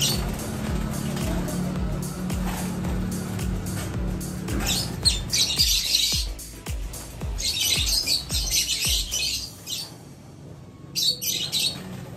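Young lovebirds newly moved into a nursery cage chirp and squawk in bursts of sharp high calls over handling noise and thumps, fairly close.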